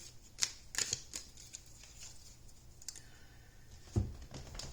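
Tarot cards are shuffled by hand in quick, crisp riffling bursts, soft and close, with scattered taps and pauses in a quiet room.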